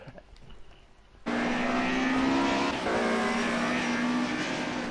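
Historic touring cars roar off the line at a race start at Oulton Park, a sudden loud burst of engines revving hard and accelerating together after a quieter lead-in, then a sustained droning pack with gear changes.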